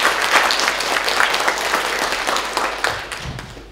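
A lecture audience gives a hearty round of applause to welcome a speaker, loud and sustained clapping that thins out toward the end, with a soft thump at the close.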